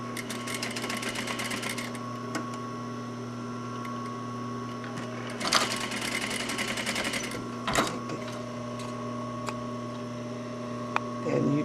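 A sewing machine stitching seams on fabric bows and appliques, a steady close whirring hum with brief bursts of louder clatter as stitching starts and stops, running continuously throughout.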